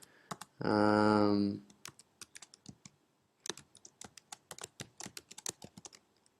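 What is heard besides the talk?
typing captcha letters on a computer keyboard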